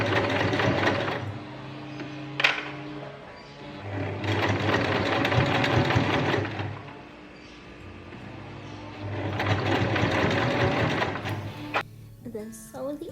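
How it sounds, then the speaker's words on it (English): A sewing machine stitches a strawberry plush pillow in long steady bursts of rapid mechanical whirring, stopping and restarting between seams, with a few clicks and handling noises in the pauses. "And let's get to the sewing machine."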